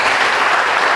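A church revival congregation at a crusade in Pekanbaru, Riau, breaks into a steady wash of applause and cheering, loud and sustained for the whole brief moment.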